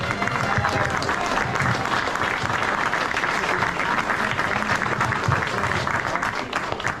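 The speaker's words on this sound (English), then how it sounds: "Give her a big round of applause." Sustained applause from a large crowd at a sports awards banquet, dense steady clapping with some cheering mixed in, continuous and loud throughout.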